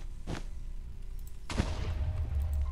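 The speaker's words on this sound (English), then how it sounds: "somebody's making explosions already" Two sharp, loud booms of explosions in Minecraft, the second heavier with a rumbling tail, set against a quiet background with no talking.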